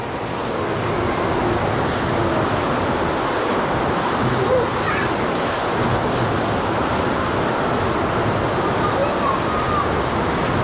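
Heavy, warm tropical rain pouring steadily during street flooding in Naga City, Bicol, Philippines, a dense, loud, continuous hiss with some wind, no breaks throughout.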